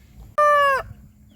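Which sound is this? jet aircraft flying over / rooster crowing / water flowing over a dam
rooster crowing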